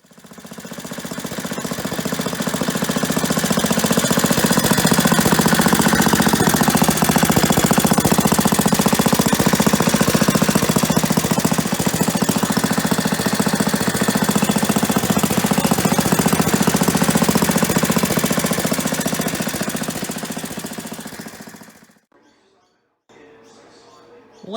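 A JAP Type 3 stationary engine runs steadily and loudly for about 22 seconds with a dense, rapid knocking beat, then cuts out abruptly, leaving near silence.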